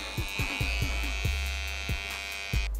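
DINGLING electric hair clipper steadily humming and buzzing while trimming and fading hair, with repeated short low thumps from the blade passing through the hair, close and alone.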